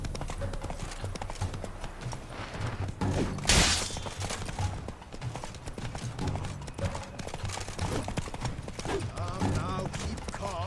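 Roach, Geralt's horse in The Witcher 3: Blood and Wine, gallops with a steady, rapid clip-clop of hooves that runs throughout, close and fairly loud. Voices talk over the hoofbeats, and a sharp burst rises briefly partway through.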